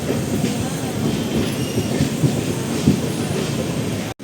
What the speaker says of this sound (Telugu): ఎంటర్ అవుతుంది ఇప్పుడే ప్లాట్ఫామ్ నెంబర్ 3 పైకి